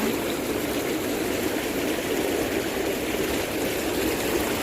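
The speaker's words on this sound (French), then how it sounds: "vous appuyez sur le bouton des bulles juste ici et ça lance les remous." Bubble jets of a hot tub churning the water, a steady, loud rushing and frothing wash that runs unbroken, with no voices.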